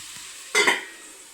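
Chicken curry fries in a pan with a brief burst of sizzle and stirring, close and fairly loud, before the pan settles into a quiet low hiss.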